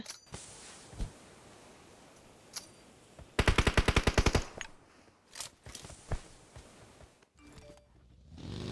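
PUBG Mobile gunfire: scattered single shots, then a rapid burst of automatic fire, followed by more sporadic shots and clatter, fairly close.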